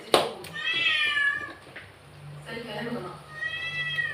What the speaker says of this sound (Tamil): பூனை வந்துச்சு.